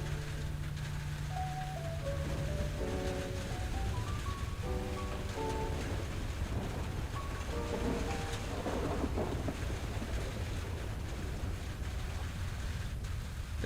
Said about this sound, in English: It's raining outside like in real life.